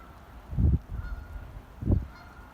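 Two loud honks from geese, a second apart, ring out against a breezy outdoor background; no one is talking.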